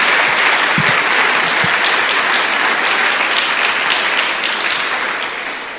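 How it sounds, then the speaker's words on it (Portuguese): A church congregation claps in sustained, dense applause, loud and steady throughout, tapering slightly at the end. "Dá uma salva de palmas a Jesus."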